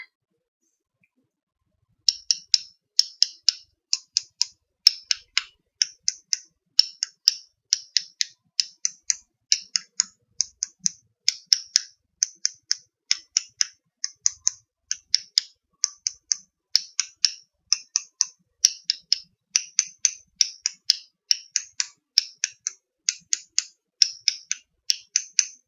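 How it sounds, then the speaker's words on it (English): Root beer bottle caps clicked and tapped as an ASMR trigger, making a long steady series of crisp, close, quiet clicks in an even rhythm with no talking. "Root beer caps."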